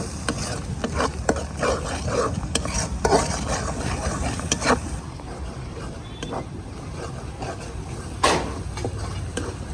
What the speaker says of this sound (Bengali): এখন সব কিছু একসঙ্গে ভালো করে একটু কষিয়ে নেব